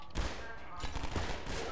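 Rapid gunfire in the video game Half-Life 2, a brief burst of shots over game noise, moderately loud and crowded together.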